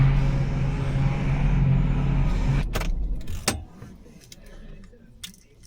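Car key jangling in the ignition of a supercharged Ford XR8 Sprint, a running engine hum cut off midway, followed by several light metallic key clinks and rattles, close and moderate.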